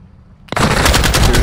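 Rapid automatic gunfire from the video game DMZ erupts abruptly after a quiet lead-in and keeps going loud and dense, a sustained burst of close shots with no voices.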